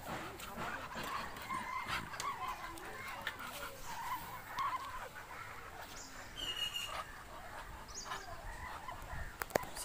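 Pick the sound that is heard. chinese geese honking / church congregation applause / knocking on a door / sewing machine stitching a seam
chinese geese honking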